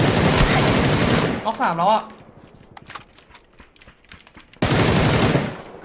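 Rapid bursts of automatic gunfire in the battle royale video game PUBG, loud and dense at the start and again near the end, with players talking in the quieter stretch between.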